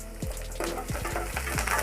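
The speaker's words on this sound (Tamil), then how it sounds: "கடுகு பொரியட்டும்" Mustard seeds pop and splutter in hot oil for a tempering with dried red chillies and curry leaves, a close crackling sizzle with scattered sharp pops, no voices.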